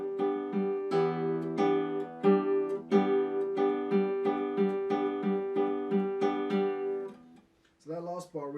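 A classical guitar plucks the coda chords of Villa-Lobos's Etude No. 10 in a steady, syncopated off-beat rhythm, each chord ringing briefly before the next; a short voice comes in near the end.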